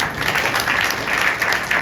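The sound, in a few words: congregation clapping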